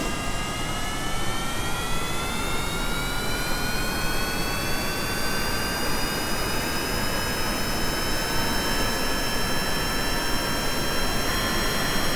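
A jet engine on an aircraft in Kerbal Space Program runs at full throttle, giving a loud, steady, continuous roar with a rising whine, heard alone throughout.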